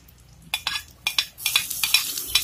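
Meat browning in a pan for a string bean guisado, stirred with a utensil: a run of sharp scraping, clattering strokes over a steady sizzle, close and moderately loud, with no voices.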